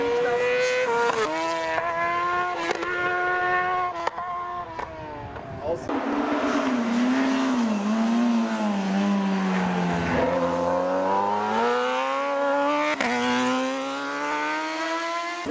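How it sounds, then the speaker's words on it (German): A superbike launches at the start of a hill climb race, its engine screaming up through rising and falling gear pitches, loud and close, while a commentator speaks over the racing. "Und jetzt gestartet der Jean-Luc David"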